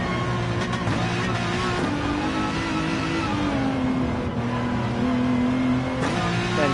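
Race car engine in Gran Turismo 7 revving hard and accelerating under a nitrous boost, a steady loud droning roar with rising pitch and a brief shift partway through, no talk over it.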